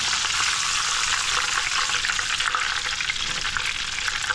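Alligator meat frying in a pan, a steady, close and fairly loud crackling sizzle that carries on without a break and with no talking.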